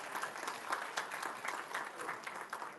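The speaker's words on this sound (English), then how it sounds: "you guys can give me a round of applause too" A crowd claps at a panel discussion on human rights in Pakistan in Dallas, steady, even applause that sounds faint and distant, with no voices over it.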